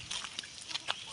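Small chickens clucking softly while being fed, several short chirpy clucks and peeps scattered over a faint background, fairly near and quiet, with no talking.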